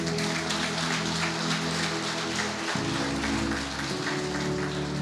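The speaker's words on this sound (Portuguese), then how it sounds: "vamos aplaudir Jesus" Sustained applause from a church congregation after lunch, a dense, steady wash of many hands clapping that continues evenly for several seconds over a low hum, with no talk on top.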